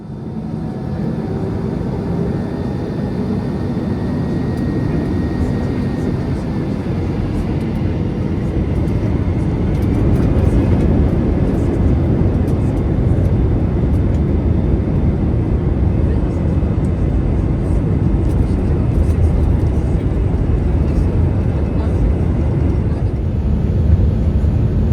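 Allegiant Air airliner cabin during pushback: a loud, steady low engine and air-system rumble fills the cabin continuously, with faint whines drifting over it.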